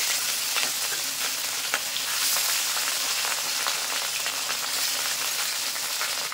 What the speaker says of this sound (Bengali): এবার এই মাছগুলো ভেজে নেবো আমি